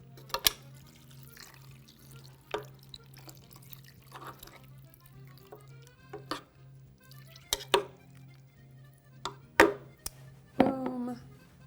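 Beef broth stirred into a pan on medium-high heat, with soft liquid sloshes, drips and light utensil clinks at irregular intervals over a faint steady hum, fairly quiet and close.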